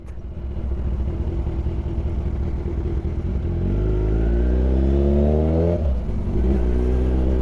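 Road traffic sounds loud and close during a Kawasaki Z1000 R motorcycle ride. A steady engine drone runs throughout and climbs in rising revving sweeps from about midway.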